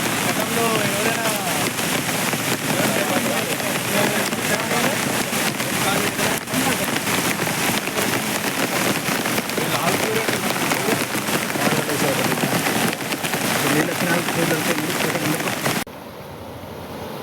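Heavy rain pours down in a dense, constant hiss of drops striking surfaces, loud and unbroken until it drops away sharply at the very end.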